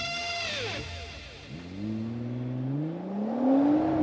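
Hand-built twin-turbo 3.8-liter V6 in a 2009 Nissan GT-R starting up: a short starter whine falls away, then the engine catches and its tone climbs steadily into a rising idle, fairly quiet overall.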